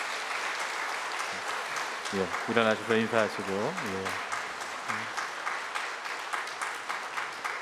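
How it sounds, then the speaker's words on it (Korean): A church congregation applauds the choir during a Sunday worship service, with steady clapping filling the room while someone speaks over it. "우리 함께 성가대에게 좀 박수 한번 하겠습니다"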